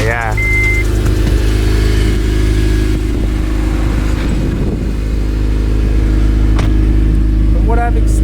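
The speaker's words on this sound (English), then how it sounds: "I feel like this exhaust setup is probably one of the best sounding ones" An 8th generation Honda Civic Si with an aftermarket exhaust idles loudly up close with a deep steady drone, a brief rise in revs midway and faint voices in the background.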